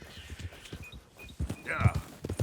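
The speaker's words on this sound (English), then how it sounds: "Hey! My horse!" Horse hooves clip-clop in Red Dead Redemption 2, a few uneven steps close by, with a voice speaking over them.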